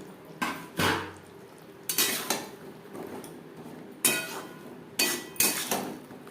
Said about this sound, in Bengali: মশলার সাথে বেগুন বেশ ভালো করে মিক্সড করে দেব মিডিয়াম ফ্লেমে চার পাঁচ মিনিট রান্না করে নেব